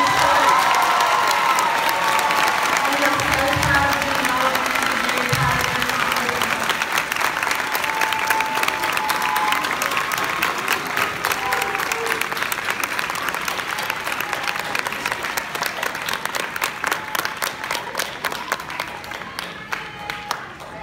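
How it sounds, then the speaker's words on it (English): Audience applause and cheering for graduating dual enrollment scholars, a dense sustained wash of clapping with scattered shouts, loud and steady for about twenty seconds before thinning slightly at the end. "join me in a big round of applause"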